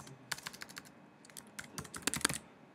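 A password is tapped out on a computer keyboard in a quiet room, soft, close clicks in irregular bursts with short pauses between groups of keystrokes.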